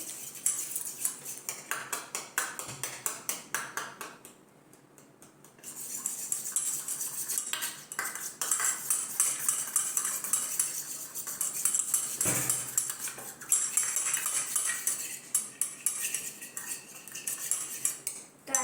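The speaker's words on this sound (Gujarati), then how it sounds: "પછી સ્પૂનથી આને આપણે મિક્સ કરીશું" A spoon stirring chaat masala into a sauce in a bowl, rapid rhythmic clinks and scrapes of metal against the dish, close and crisp, pausing briefly before resuming with steady stirring.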